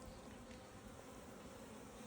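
Honey bees humming steadily inside a crowded 15-frame hive, a dense, close, continuous buzz with no voices over it.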